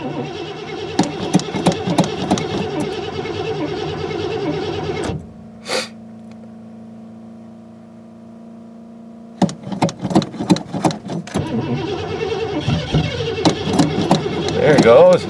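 A Ford Granada engine cranks and catches after a fuel pump primes, the motor bursting into a loud, rough idle after a quiet pause, with uneven revving and clattering over talk.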